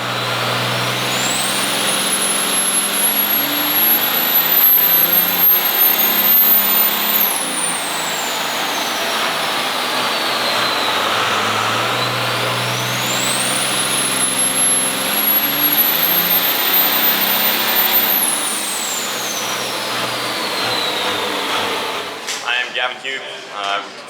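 A 1992 W250 truck with a 12 mm pump, 5x16 injectors and a 98 mm Garrett GT55 turbo runs hard on a dyno at a diesel dyno day, its loud steady roar carrying a turbo whine that twice rises, holds and drops.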